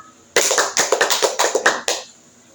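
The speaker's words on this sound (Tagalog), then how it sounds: "Bigyan natin si Erin ng palakpak" A small classroom gives a student a short burst of clapping during a demo lesson, a dozen or so sharp claps in a quick rhythm starting abruptly and stopping just as suddenly.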